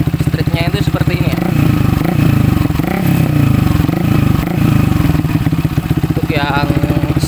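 A Yamaha Vixion motorcycle with a street exhaust revving nearby, a loud rapid throbbing exhaust note that swells and drops over several blips, with a voice speaking briefly over it.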